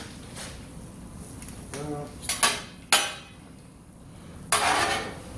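A metal spatula flips breakfast on a Blackstone griddle, giving a few sharp scraping clanks against the flat steel over low background noise, with a longer scrape near the end.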